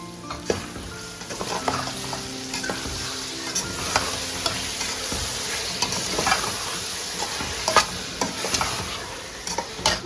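Yogurt goes into a pot of cooking peas and potatoes, giving a continuous close sizzle with repeated spoon stirring and scraping against the pot, busy and fairly loud throughout.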